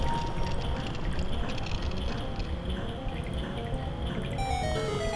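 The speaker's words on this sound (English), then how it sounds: "there's this waterfall on this ladder, and we can stop that at its source" Steady rushing, splashing waterfall beside a ladder in The Legend of Zelda: Majora's Mask 3D, a continuous even wash of falling water filling the scene without pause.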